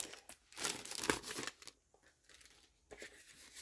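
Paper envelopes handled up close, giving soft crinkling and rustling with a few sharper crackles, fairly quiet and irregular.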